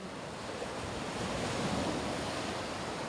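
Sea waves break and wash steadily offshore, a continuous broadband roar of surf with some wind noise over the microphone and no voices.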